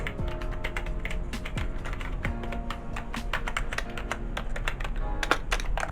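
Rapid, close typing on a computer keyboard, a steady stream of clicky keystrokes with a faint hum underneath.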